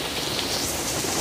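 Heavy rain pouring down in Portugal, a dense, continuous hiss of drops on surfaces that is loud and steady throughout with no voices over it.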